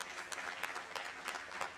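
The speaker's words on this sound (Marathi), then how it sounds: "जोरदार टाळ्या" Fairly quiet applause from a group at an International Yoga Day session, a brief patter of separate claps rising and falling for under two seconds.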